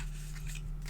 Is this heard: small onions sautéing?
no